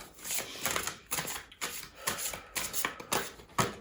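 Tarot cards are shuffled by hand in quick papery riffles and slaps, about a dozen crisp bursts in uneven rhythm, close and clear with no talking.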